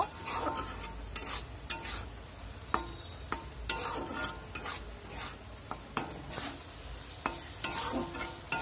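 A chicken filling for khasta kachori cooks down with a little water in a pan, giving a faint, continuous sizzle under repeated spoon scrapes and clinks as it is stirred.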